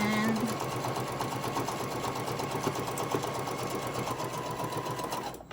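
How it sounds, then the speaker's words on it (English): A sewing machine runs steadily at close range, stitching a Halloween-themed treat bag with a fast even rhythmic whir that stops abruptly at the end. "So I'm going to keep sewing all the way to the end."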